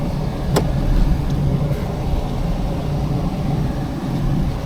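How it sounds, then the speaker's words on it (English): Steady engine and road drone from inside a 1993 Ford Taurus driving with low power, apparently stuck in second gear, holding a constant loud rumble with one brief sharp click early on. "feels like I'm stuck in second gear"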